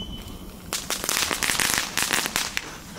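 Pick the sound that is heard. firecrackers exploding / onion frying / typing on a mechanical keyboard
firecrackers exploding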